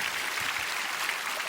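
Audience applause at a Korean church worship service, a steady dense wash of many hands clapping, moderately loud and even throughout with no voices over it.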